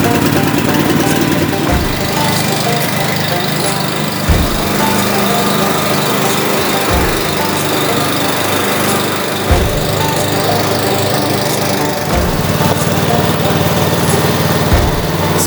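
A small farm machine's engine runs steadily after starting, a loud, close, constant buzzing drone with slight periodic thumps and no pauses throughout.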